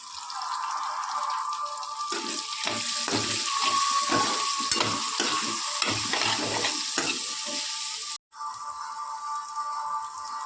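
Sliced bitter gourd frying with turmeric in a hot pan gives a steady, busy sizzle and crackle, with stirring scrapes through the middle and a brief cut near the end before the frying hiss resumes.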